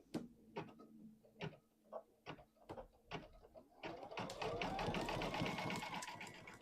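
A home embroidery machine stitching fursuit material, first in short separate bursts of rapid mechanical clatter and then in one continuous, steady stitching run that grows louder and denser toward the end.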